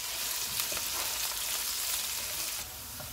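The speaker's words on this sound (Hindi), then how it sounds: "प्याज डालेंगे, इनको गोल्डन फ्राई करेंगे।" Onions fry in hot oil with whole spices, a dense, close, steady crackling sizzle that carries on without pause, with light stirring and no talking.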